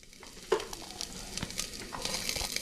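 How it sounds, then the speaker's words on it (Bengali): Mixed vegetables and beans for fried rice frying gently in a pan with very little oil, a quiet sizzle broken by stirring scrapes and small clicks, no talking. "এই সবগুলো একসাথে দিয়ে তারপর একসাথে হালকা করে ভেজে নিতে হবে"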